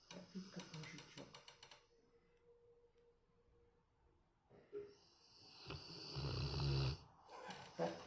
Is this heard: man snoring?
yes